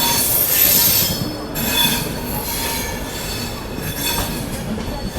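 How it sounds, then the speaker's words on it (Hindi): Vibhuti Express train pulling into Varanasi Junction, its wheels giving loud, high metallic squeals that rise and fade over a steady rolling rumble, with no talking. "और यहाँ अपना अराइवल होता हुआ वाराणसी जंक्शन पे।"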